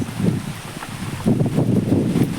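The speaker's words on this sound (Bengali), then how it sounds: "শন করে বাতাস রয়েছে" Countryside wind during heavy rain sweeps steadily past, a soft whooshing rumble with gusty swells, fairly close and moderately quiet, with no voices.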